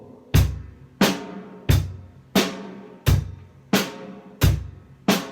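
A drum set is struck in a slow, steady beat, with seven evenly spaced, loud hits, each ringing out and decaying before the next. There is no talking.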